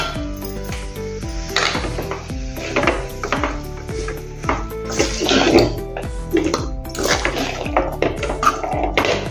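Cabbage cooked with boiled pavte gets stirred in a metal pan, a spoon scraping and clinking against the pan in a steady, busy rhythm of clanks and taps, close and fairly loud with no talking.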